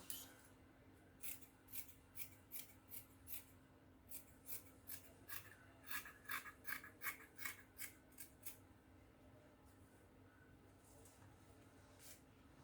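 Scissors cutting fabric snip repeatedly in a quick, uneven rhythm of short crisp cuts, close and fairly quiet, with brief pauses between runs.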